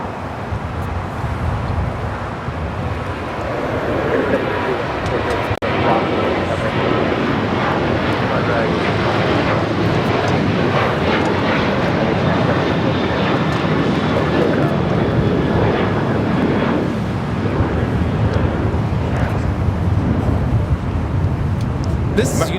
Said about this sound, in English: This is United 1897 taking off to Denver on the 737-800